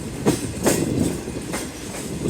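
Green Line express passenger train (5 Up) running on rails, a steady rumbling roll with periodic clickety-clack wheel beats at rail joints, heard from on board at moderate loudness with no voices.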